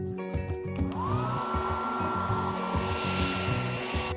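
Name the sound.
hair dryer blowing dust off Lego parts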